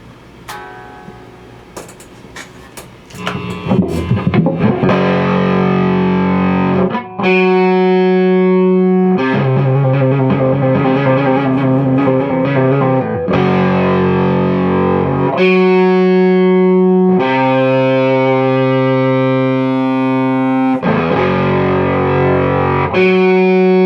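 Loud, heavily distorted electric guitar runs through a Laney Supergroup 100 Mk.1 preamp clone pedal, starting with quick picked notes and then moving into sustained, saturated chords that change every couple of seconds, with no talking.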